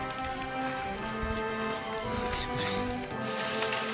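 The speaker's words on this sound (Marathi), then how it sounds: "झिम झिम झिम पाऊस आहे त्याच्यामुळे बरं आहे." Light drizzle falling during a mountain trek, a soft steady patter under steady background noise with faint voices mixed in.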